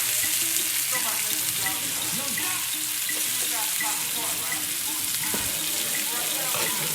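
Chicken for a Hennessy-glazed dish cooking in a pan, a busy close sizzle with clinks and scraping of stirring layered over it.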